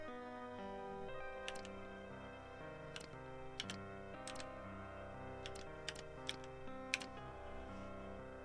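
Keys are typed on a computer keyboard to solve a code puzzle in the Titanic Adventure Out of Time game, giving sparse, faint clicks spaced irregularly over a soft, steady musical background.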